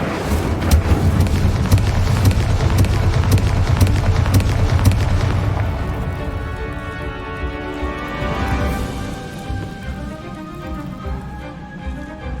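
The Incendio fire spell in Hogwarts Legacy roars as a loud, rumbling flame burst for about five seconds, then fades into a ringing, shimmering tail under soft game ambience.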